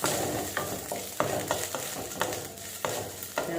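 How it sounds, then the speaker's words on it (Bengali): Coconut pieces roast over a low flame in a pan, a steady sizzle broken by sharp scraping strokes of a spoon stirring them, close and alone. "ఈ కొబ్బరికాయ ముక్కలు కొంచెము రోస్ట్ చేసుకుంటాము"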